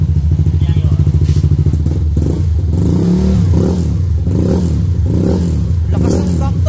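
Honda Click 125 scooter fitted with a 175cc engine setup, revved hard: a loud, close buzzing exhaust that surges and drops in repeated blips, with people talking alongside.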